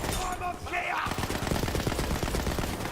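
Rapid automatic gunfire from a running gun that sprints on little feet while shooting in Borderlands 3, a dense, loud stream of rounds filling the clip after a brief mechanical whir at the start.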